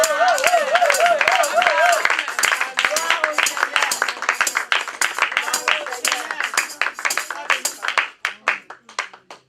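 Congregation applauding inside a church during a Paris evangelical service, dense rhythmic clapping from many hands that starts over a singing voice and thins out into scattered claps toward the end.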